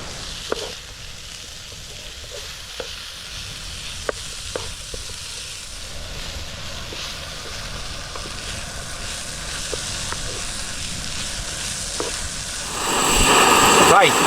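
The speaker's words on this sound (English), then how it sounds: "we'll get these bacon lardons frying first" Bacon lardons frying on a Trangia camping stove at a wild camp, with a steady crackling sizzle, scattered sharp pops and clicks, and a sudden louder rush of sizzling near the end.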